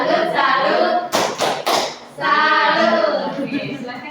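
A classroom group performs the 'tepuk salut' rhythmic clapping chant: a short burst of quick group claps sits between stretches of voices chanting together.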